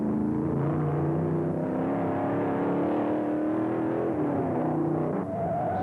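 Powerful 1960s racing engines from the 1965 Bridgehampton 500, including a big 427 Cobra and a Ferrari, drone and rev steadily at close range, their layered whine rising and falling throughout with no talk.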